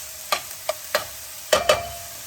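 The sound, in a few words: upma ingredients frying and being stirred in a pan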